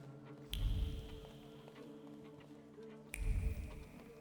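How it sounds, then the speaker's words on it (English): Two sharp finger snaps land a few seconds apart, each a crisp close click over a faint, quiet background. "this is why I was snapping my fingers"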